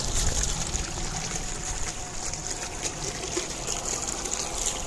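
Water runs steadily on a small farm for irrigation of fodder fields, a continuous close gurgling trickle and rush with a hissy wash and no voices.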